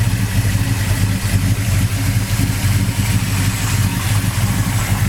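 A 1966 Chevy Chevelle's big-block 454 V8 with an aggressive cam idles steadily up close, a deep, loud, rumbling low-end throb holding even for several seconds with no voices.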